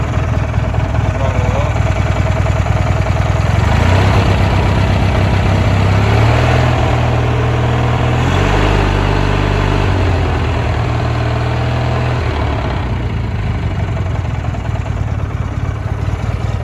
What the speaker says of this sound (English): It's idling completely now.